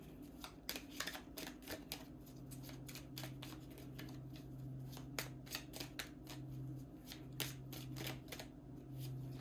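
A deck of tarot cards being shuffled by hand, a long run of quick crisp riffles and flicks in close, steady bursts, fairly quiet, with a faint hum behind and no talk.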